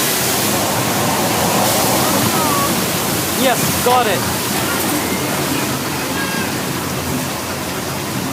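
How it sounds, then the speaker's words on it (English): Rushing water from a simulated flash flood on a studio tram tour at Universal Studios, a steady loud broadband roar filling the whole stretch, with voices talking over it. "We're having a flash flood."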